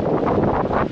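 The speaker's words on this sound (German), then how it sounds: "es wird langsam zu stürmisch" Stormy wind sweeps through a forest in the evening, a loud, continuous rushing roar with gusty buffeting against the microphone and no speech.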